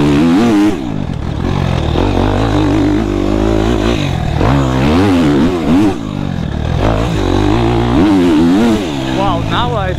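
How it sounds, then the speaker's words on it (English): Motocross dirt bike ridden in a field, its engine revving up and down continuously and loudly with wind noise, rising and falling as the rider accelerates and shifts, a voice speaking over it at times. "so it should help with the wind and bike noise."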